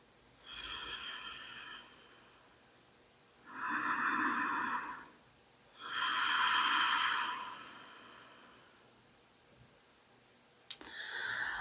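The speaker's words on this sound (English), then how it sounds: "Taking a few deep breaths in." Slow, deep yoga breaths during a yin session at a wall: three long airy breaths, one short and two longer, close and clear in a quiet room, with a small click near the end.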